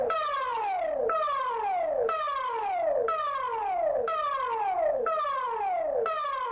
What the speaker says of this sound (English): You have just heard the important message signal of the public warning system sounded in support of Total Defense Day.